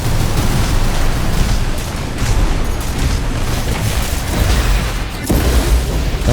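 A missile volley and explosions in the video game Armored Core 6 arrive as loud, continuous booming blasts with heavy low rumble, layered and unbroken throughout, with a sharp extra burst near the end.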